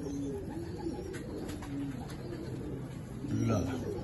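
Salara Teddy pigeons coo in soft, repeated low calls, with other birds faintly chirping around them while someone talks over them at close range.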